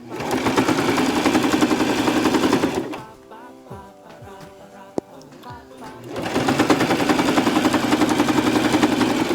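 Sewing machine stitching a seam on a martial arts uniform trim, with loud steady rapid needle clatter that stops for a few seconds of quiet handling and then starts again at the same pace.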